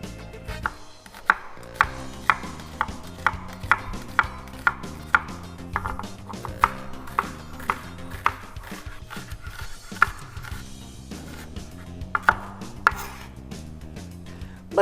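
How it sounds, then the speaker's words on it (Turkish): Steady, rapid knife chopping of a dry onion, finely diced on a cutting board, crisp regular taps continuing throughout with no talking. "Bir tane kuru soğanım var. Bunu ince yemeklik doğrayacağız."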